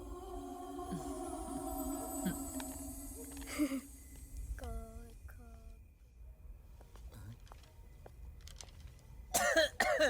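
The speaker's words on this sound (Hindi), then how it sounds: "बहुत खांसी आ रही है" A few throaty coughs break out close by, mixed with voices talking quietly in a room.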